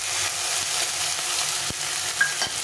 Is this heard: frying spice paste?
yes